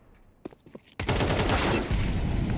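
Rapid automatic fire from an AK rifle in a Counter-Strike 2 pro match, a dense, loud continuous burst that starts abruptly after a second of quieter clicks and shuffling, then holds steady to the end.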